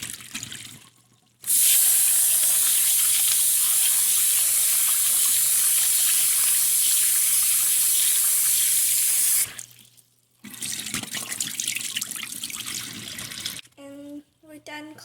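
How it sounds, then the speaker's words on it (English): Rice being washed under a running kitchen tap before cooking with coconut milk, a steady loud rush of water for several seconds, then a pause and a second softer run of splashing, ending in brief clattering and a faint tone. "now we're going to clean the rice again 2 to 3 times"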